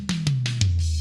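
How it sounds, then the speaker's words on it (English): Drum toms brightened with SSL-style EQ in Logic Pro, four sharp hits with a descending low tone that rings out under the last stroke, close and punchy with no voices. "I had to brighten up the toms even more"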